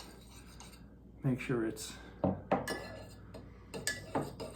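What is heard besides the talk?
spoon stirring instant coffee in cups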